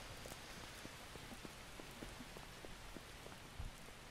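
Steady pattering rain in the open-world survival game Miscreated, a dense hiss of drops falling on surfaces through a dark street, with a few louder individual splats and a brief low thump near the end.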